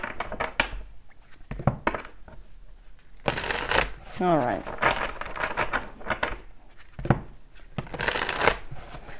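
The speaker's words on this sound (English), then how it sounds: "let's give this a good shuffle" A deck of tarot cards is shuffled close by, with riffling bursts and soft slaps scattered through, and a person speaks briefly partway through.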